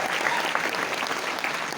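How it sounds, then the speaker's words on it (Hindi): Audience applause at a Vestige business program in Butwal, a dense, steady wash of clapping from many hands throughout, with no speech over it. "एक बार जोरदार ताली इनके लिए हो"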